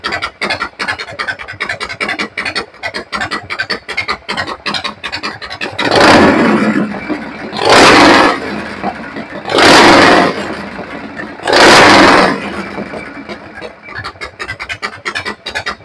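A Harley-Davidson Shovelhead FXE 1200 with an S&S Super E carburetor idles near 1000 rpm with a loud, lumpy, rapid chug, broken by four strong throttle blips in the middle.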